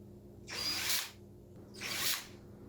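A power drill whirs in two short bursts, each about half a second long with a brief pause between, close by, while building a birdhouse.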